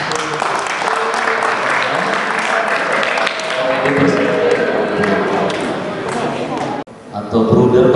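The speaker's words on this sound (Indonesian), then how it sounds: "Kita berikan tepuk tangan" Sustained applause from a school orientation crowd at a boarding school, many hands clapping loudly and steadily for several seconds before briefly dropping off and resuming near the end.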